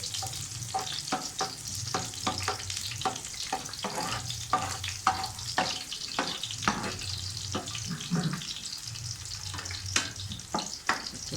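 Garlic frying in hot oil for a tadka to pour over masoor dal, a steady close sizzle broken by repeated sharp stirring scrapes and clicks, with no talking.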